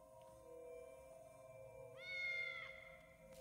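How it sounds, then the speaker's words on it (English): A black cat in the video game Iris Fall gives one rising, drawn-out meow partway through, clear over a quiet tonal ambient game score. "So we followed a black cat,"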